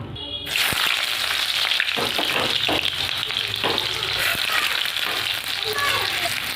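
Onion frying in hot oil in a wok, a steady loud sizzle that runs throughout with occasional stirring scrapes and clatters.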